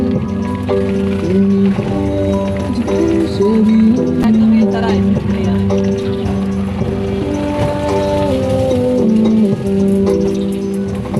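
Rain falling steadily during a rainy-day journey to a relative's home, a continuous patter under soft music and a voice speaking.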